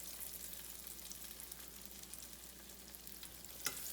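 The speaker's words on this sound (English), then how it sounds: "I'm gonna go ahead and put the pork chops in" Steady crackling sizzle of pork chops frying in hot oil, continuous and close, with one brief louder pop near the end.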